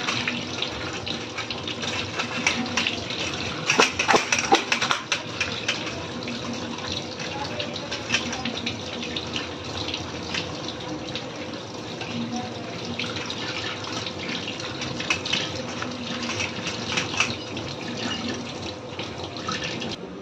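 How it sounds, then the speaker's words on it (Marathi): Running tap water pours steadily into a sink as cut potatoes are washed by hand, with sloshing and splashing that swells briefly early on, and a voice speaks occasionally under the flow. "आता आपण धुवून घेऊया"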